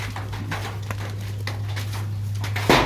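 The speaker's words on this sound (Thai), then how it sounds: "ฝนตกเนาะค่ะฝนตก ใส่สังกะสีปอกแปกปอกแปกอยู่" Rain patters steadily on a corrugated metal roof, a dense tinny tapping over a low constant hum, ending with a sudden louder clatter.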